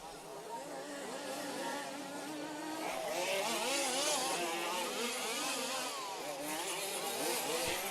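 Large-scale 2WD off-road RC racing cars buzz past with high, rising and falling motor whine that swells and fades as they round a corner, a faint voice underneath.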